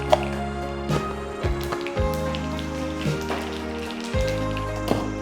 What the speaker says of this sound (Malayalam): കടുക് പൊട്ടിക്കണം.